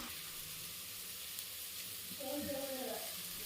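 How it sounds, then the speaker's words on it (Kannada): Soya chunks and raw banana pieces frying in a pan, a steady faint sizzle running throughout with light stirring toward the end, quiet and close. "ಸೋಯಾ ಚಂಕ್ ಮತ್ತು ಬಾಳೆಕಾಯಿ ಇದೆಲ್ಲ ಹಾಕಿದ್ದೀನಿ, ಚೆನ್ನಾಗಿ ಫ್ರೈ ಆಗಲಿ"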